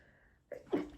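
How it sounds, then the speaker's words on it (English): A person sneezes indoors in a home kitchen: a sharp inhaled catch followed by a single close, abrupt sneeze burst, with no talk over it. "I'm gonna sneeze"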